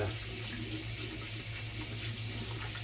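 A tap runs steadily and close while a razor is rinsed, a continuous splashing flow of water with no pauses.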